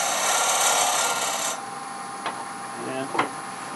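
A rotary texturing tool cuts into wood on a lathe, giving a steady loud rasping whir that suddenly drops to a quieter hum, followed by a few short scraping bursts.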